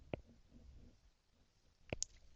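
A couple of sharp computer mouse clicks, one early and one near the end, quiet and close against a faint room background with no talking.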